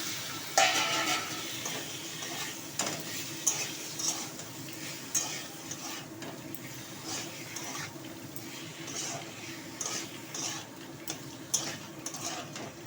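Taro and potatoes stirred into a spice paste in a pan for a fish curry, a soft steady sizzle broken by repeated scraping clicks of a spoon, close by, with no voices.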